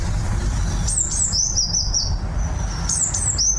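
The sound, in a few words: bird singing in the garden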